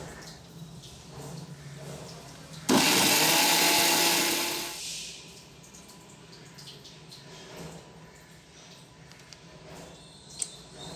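A mixer grinder whirs loudly for about two seconds while grinding fenugreek for kaadi, starting abruptly and then fading as it stops, with quiet kitchen handling sounds before and after.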